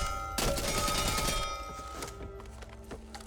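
Rapid gunfire from test weapons in the shooting range of the video game Back 4 Blood, a dense burst of shots and impacts over steady game music, fading into scattered sharper cracks toward the end.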